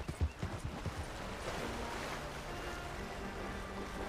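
A horse wades through water in Red Dead Redemption 2, with heavy splashing steps at the start giving way to a continuous wash of water and surf noise.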